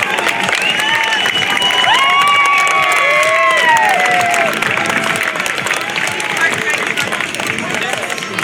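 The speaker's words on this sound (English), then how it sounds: "A big round of applause for the United States Aerobatic champion, Rob Holland" An outdoor crowd at the 2019 Leesburg Airshow applauds and cheers for aerobatic pilot Rob Holland, with loud, sustained clapping mixed with raised voices and shouts, and people talking through the noise.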